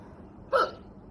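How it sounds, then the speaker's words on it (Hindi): A single sharp hiccup, loud and close, brought on after eating chili, a short voiced burst standing out against quiet room tone. "अब मेरी हिचकी नहीं रुकेगी क्योंकि जब मैं मिर्च खाता हूँ मेरे को हिचकी आने लगती है।"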